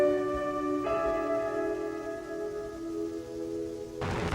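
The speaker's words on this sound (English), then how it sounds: "On those bright nights, Denison could also hear the ringing of cracked bells." Bells ringing with sustained metallic tones that hum and decay over several seconds, a new strike layering in partway through and a brighter clang near the end, heard alone without talk.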